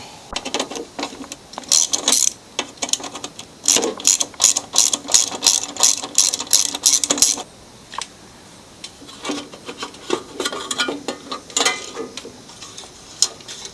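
A ratchet wrench clicks rapidly in bursts while backing out 3/8 and 1/4 inch bolts from the engine shroud of a Craftsman lawn mower, close and loud, then slower scattered clicks and tool handling.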